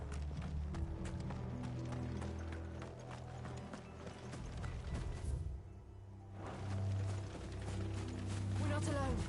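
Horses' hooves clip-clop in the game Final Fantasy XVI, a steady run of close hoofbeats over layered game music and ambience, with a short lull midway before the trotting rhythm picks back up.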